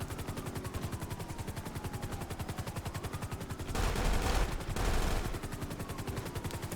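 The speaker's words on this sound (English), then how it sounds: "M14 weapon we're using right now" Rapid M14 rifle fire in GTA 5 rattles in quick, even bursts, with a helicopter's rotor chop beneath and a louder heavy blast partway through, no voices.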